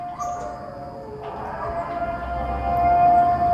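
A recording of the siren from The Purge films plays back: a sustained, wavering siren-like tone with a steady pitched line that swells slightly louder toward the end, with no talk over it.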